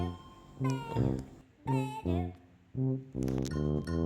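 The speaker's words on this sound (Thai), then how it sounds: "มีแมวเลย อยากเลี้ยงแมวเลย" Cat meowing in a video game, five or six distinct meows in quick succession, clear, close and fairly loud.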